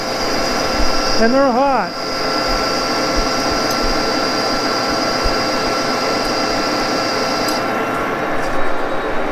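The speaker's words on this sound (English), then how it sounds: "Taking about 100 thousandths off the diameter each cut." A D1-6 engine lathe takes roughly 100 thousandths off the diameter of a metal workpiece on each cut, producing a steady, loud mechanical hum with a whining tone throughout. Brief speech comes near the start.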